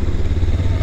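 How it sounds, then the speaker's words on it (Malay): Motorcycle engine running close and loud with a steady, rough low rumble and clattery texture while riding up a hill road toward Bukit Melawati. "Kita naik motor, naik atas cuba."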